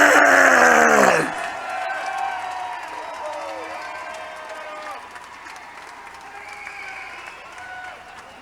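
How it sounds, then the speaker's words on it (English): At the XKO 60 cage-fighting event, an announcer's shouted introduction for Antonio Perkins gives way to a large arena crowd cheering, whistling and clapping, a loud roar that slowly eases while scattered shouts and screams rise over it. "give him the applause he deserves"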